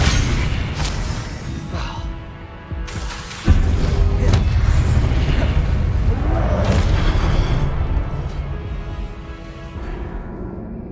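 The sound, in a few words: spell effects cast in video game Hogwarts Legacy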